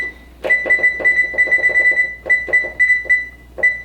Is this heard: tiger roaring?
no